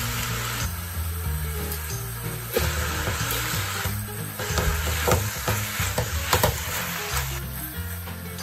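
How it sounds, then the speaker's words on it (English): Sea bream with vegetable stock simmering in a pan, a steady close sizzle and bubbling hiss with occasional stirring clicks and scrapes. "we're gonna leave the whole thing simmer a bit"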